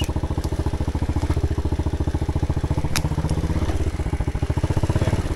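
A Loncin 125 motorcycle engine idles close by with a fast, steady, even putter and a metallic clatter, one brief sharp tick partway through, and no voices.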